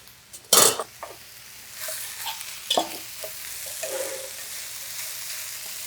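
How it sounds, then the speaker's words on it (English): Potatoes tipped into a hot pan with a loud burst of sizzling, then stirred with scattered utensil scrapes and clinks over a continuing steady fry, close by and without talk. "All right, we have some potatoes we're gonna add in."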